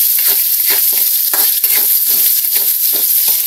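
Garlic and onion are sautéed with browning pork in a hot pan, giving a loud, steady sizzle. Soft, regular stirring scrapes pulse through it with no talk.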